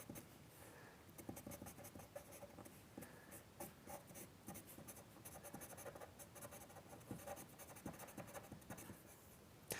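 A pastel pencil in an olive green-brown shade scratches short marks across textured paper, producing close, dry, rapid strokes in an uneven rhythm that continue throughout without any talking.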